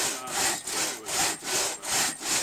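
Chainsaw cutting through wood in steady pulses, the whine dipping and rising about every half second, close and loud, with no talking.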